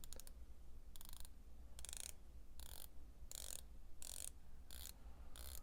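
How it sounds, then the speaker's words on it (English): An Addiesdive AD2033 dive watch's 120-click unidirectional bezel is turned in short bursts, each a quick run of fine, close ratcheting clicks separated by brief pauses, quiet and near. "the bezel is 120 click unidirectional bezel. I'll let you take a listen"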